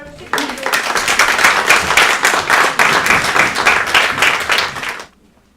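Applause from a small family gathering, loud close clapping that starts abruptly, holds steady for several seconds and stops sharply.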